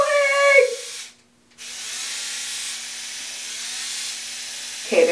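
An electric facial epilator switched on gives a steady, fairly loud motor buzz that cuts out briefly near the start and then continues, with a voice at the beginning and end.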